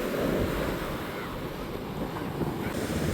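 Sea waves wash onto the shore of an island where the water has risen far up the beach. A dense, continuous roar of surf blends with heavy wind buffeting the microphone, with no pauses.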